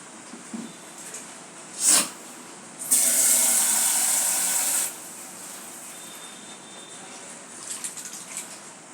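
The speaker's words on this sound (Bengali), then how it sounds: "টমেটোগুলো কষানো হয়ে গেছে, এখন আমি একটু জল দিয়ে দিব।" Water is poured into a pan of fried-down tomatoes for rohu fish curry, a loud, close rushing splash lasting about two seconds, framed by a brief clink and quiet kitchen noise.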